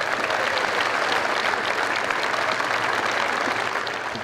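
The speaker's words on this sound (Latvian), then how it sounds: "Sagaidiet ar aplausiem arī viņu." A crowd at a State Police anniversary ceremony applauds as General Valdis Svoins comes forward to present an award; loud, even, continuous clapping from many hands, easing off slightly at the very end.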